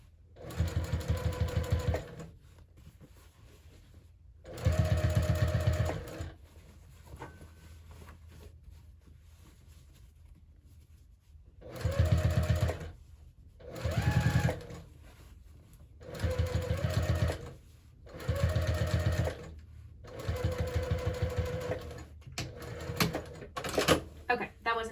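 A home sewing machine stitching a hobo bag runs in repeated bursts of fast, even needle clatter, each lasting a second or two and separated by quieter pauses, with a person talking in between.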